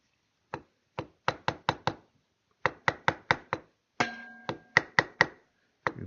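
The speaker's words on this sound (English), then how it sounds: "Now I'll take a chisel." A chisel is tapped into wood while shaping a swivel breech rifle stock kit, giving sharp, close knocks in quick bursts of three to five with short pauses between groups.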